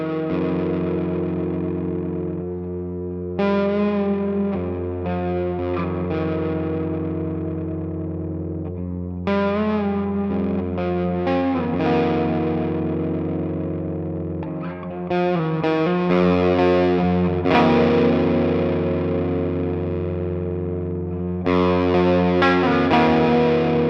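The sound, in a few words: electric guitar through CopperSound Kingpin overdrive pedal, Fender amp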